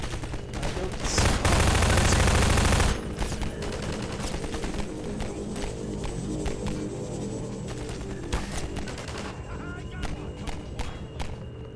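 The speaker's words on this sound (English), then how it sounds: "I hear shooting" Gunfire in the shooter Half-Life 2: a dense burst of rapid shots in the first few seconds, then scattered sharp cracks and distant firing continuing under a steady background.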